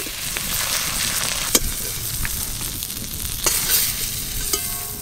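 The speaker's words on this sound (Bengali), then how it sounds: "সব গলদা চিংড়ি মাছ খুব ভালো করে ভাজা হয়ে গেছে।" Giant freshwater prawns fry in hot oil in a wok, a steady close sizzle broken by a few sharp clinks and scrapes of stirring.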